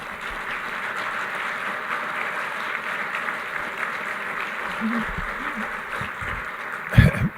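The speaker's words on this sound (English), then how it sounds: "How about a round of applause for her?" Luncheon audience at a Hall of Fame induction applauding, a broad, steady wash of many hands clapping in a large room, with a few louder thumps and clatters near the end.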